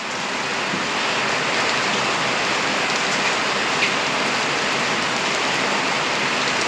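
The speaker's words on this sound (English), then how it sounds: "I know I hear some hail." A dense, steady patter of falling hail hits surfaces all around a workshop, a constant hiss with a few sharper ticks.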